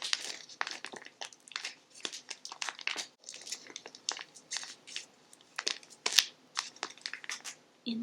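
Recycled paper is crumpled and crinkled close up in a quiet room, making a rapid series of crisp, irregular rustles and crackles with short pauses between.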